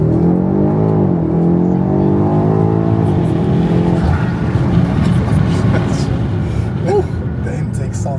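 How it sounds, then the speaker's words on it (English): BMW X5 M SUV launching hard under launch control in Sport Plus mode, a loud sustained engine and intake roar rising steadily through the gears, close by, with excited voices talking over it. "The intake sounds amazing."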